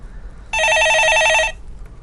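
A telephone bell rings loud and clear for about one second on a Korean stock-market call-in show, with quiet room tone before and after.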